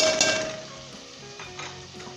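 Steady hiss and crackle of mutton frying in a pan over medium-high flame, loud and close, with occasional stirring scrapes and no talking.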